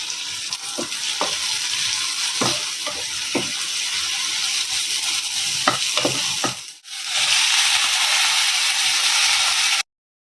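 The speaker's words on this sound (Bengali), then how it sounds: "এরপর সেদ্ধ করে রাখা পাস্তাটা ওর মধ্যে দিয়ে আরেকটু ভালো করে ভেজে নেব।" Boiled pasta tossed in hot oil with dried red chilli, plenty of onion and garlic, giving a continuous close sizzle with several sharp stirring scrapes; the sizzle briefly dips, resumes, then cuts off abruptly.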